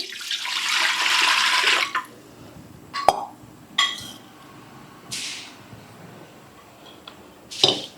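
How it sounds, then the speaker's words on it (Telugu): Water gushes into a metal idli steamer pot for a couple of seconds, followed by a few scattered clinks and splashes as the vessel is handled. "వాటర్ వేస్తున్నాను."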